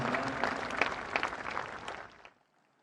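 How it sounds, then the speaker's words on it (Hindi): Audience applause at the inauguration of the Prime Minister's new office building, Seva Teerth: dense steady clapping from a large crowd for about two seconds, then quickly dying away to near silence. "एक बार पुनः तालियों के उद्घोष के साथ इन पलों का अभिवादन करें"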